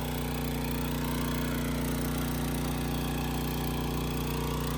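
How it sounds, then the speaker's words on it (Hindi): A tractor engine idles with no load behind it, a steady, close, continuous drone with a constant low hum and no change in pace. "ये देख लो भाई, इंजन बिल्कुल लोड फ्री है, बिल्कुल लोड फ्री"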